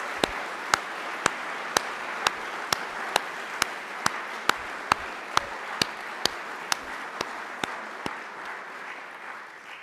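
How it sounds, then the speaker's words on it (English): Steady, evenly spaced single claps, about two per second, ring out at a civic association candidates night, sharp and fairly close, then stop near the end, leaving a quiet room tone. "A round of applause for these amazing people."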